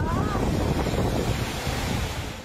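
Strong tropical storm wind buffets the microphone over the roar of crashing surf, a loud, churning storm noise that eases slightly at the end.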